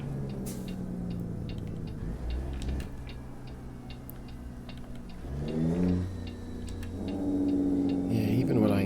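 A Zeemods ISX Signature truck engine in American Truck Simulator hums steadily, then its pitch swells upward in two revving surges toward the end. Faint regular ticking runs underneath, with no talking.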